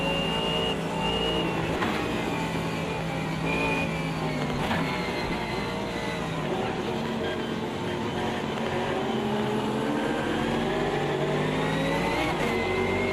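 A video game race car engine screams continuously at high revs, pitch rising and dipping through gear changes, with tires spinning and scrabbling underneath.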